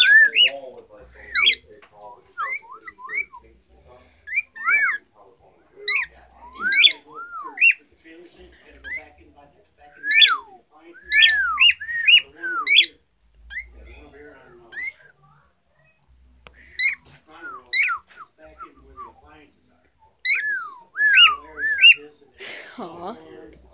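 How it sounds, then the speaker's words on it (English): A pet bird whistles and chirps in repeated bursts of bright rising and falling notes, close by, spread through the recording with short gaps between phrases and some quiet background sounds. "Oh, it's the birb."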